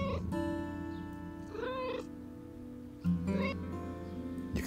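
Cartoonish cat meows from the video game Quilts and Cats of Calico, two or three tonal, slightly bleating calls over a steady sustained game music bed, close and clear.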